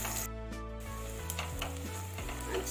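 Onions frying in a pan for kadhi daal give a continuous sizzle with occasional clicks and scrapes of stirring, heard beneath a sustained low hum and a tonal background sound, with no voices.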